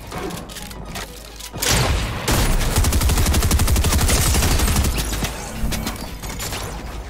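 Rapid gunfire in the video game Fortnite during a solo match: dense, sustained bursts of automatic shots crackle loudly for several seconds, with heavy thumping impacts and no talking over them.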